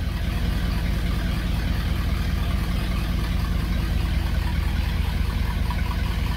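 A junkyard Dodge B200 van engine runs steadily at idle, a continuous low rumbling drone with a rough exhaust note, close and consistent throughout with no talking.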